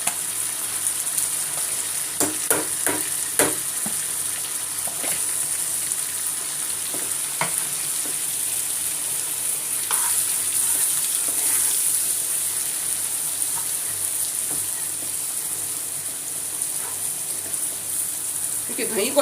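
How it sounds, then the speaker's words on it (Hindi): Yogurt (dahi) frying in a pan, a steady close sizzle running throughout with occasional stirring clinks and scrapes. "दही को अच्छा भूनना बहुत ज़रूरी होता है"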